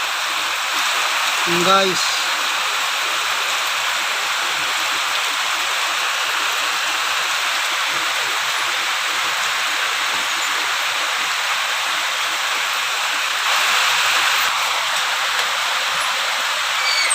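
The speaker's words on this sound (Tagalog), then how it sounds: "malakas yung ulan na ito guys" Heavy rain pours down steadily outside a house on a rainy morning, a dense even hiss throughout, with a brief spoken word near the start.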